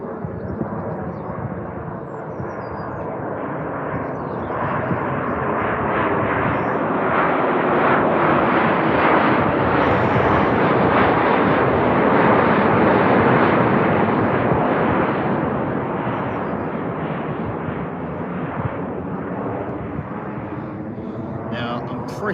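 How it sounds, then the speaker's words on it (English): Two F-15 fighter jets approaching a runway give a loud, broadband roar that swells steadily to a peak mid-clip and then eases slightly, sustained and continuous throughout. "The F-15s are coming back."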